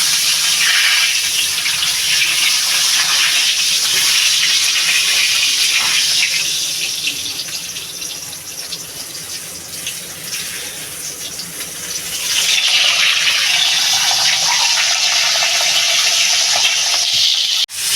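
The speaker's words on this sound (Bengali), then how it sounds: "তেলটা গরম হয়ে গেছে আমি মাছের মাথাটা দিয়ে দেবো" A fish head fries in hot mustard oil in a wok, giving a loud, steady, hissing sizzle throughout that dips slightly midway and then swells again. No one speaks.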